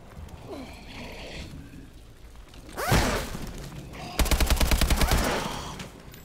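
Gunfire in the video game Call of Duty: Advanced Warfare Exo Zombies: a loud burst of shots, then a rapid rattling volley of about a dozen evenly spaced automatic rounds over steady background game noise.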